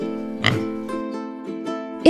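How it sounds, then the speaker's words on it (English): A pig oinks in a run of harmonic grunts and squeals, a louder burst near the start followed by several shorter calls, steady and close with a quiet background. "It's pig."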